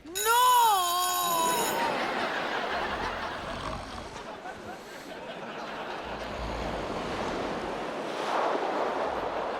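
Ocean waves and surf rolling in as a broad wash of sound under wind, after a brief ringing, sliding tonal chime at the very start.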